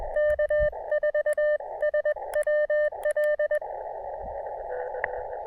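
Morse code sidetone from a telegraph key during portable ham radio operation, a steady tone keyed into quick rhythmic dits and dahs over a band of radio hiss, then trailing off into static.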